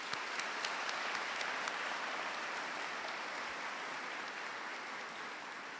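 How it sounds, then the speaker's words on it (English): Sustained audience applause at a high school graduation ceremony, a steady dense wash of clapping heard from some distance in a large room, even in level throughout with no talk over it. "So if everybody can give Max a round of applause"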